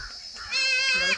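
A tethered goat gives one close, wavering bleat over a low rumble of background noise, with no speech.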